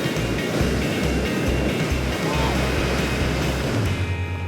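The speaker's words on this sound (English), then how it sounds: "we've got another big wave coming for us" Ocean waves breaking toward the shore at Santa Monica, a continuous loud wash of surf churning close by with low rumbling swells and no clear talk.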